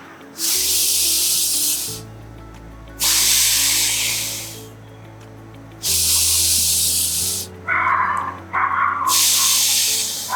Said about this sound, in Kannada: ದೀರ್ಘ ಶ್ವಾಸವನ್ನು ತೆಗೆದುಕೊಂಡು 2 ಬಾರಿ ಬಿಡಬೇಕು.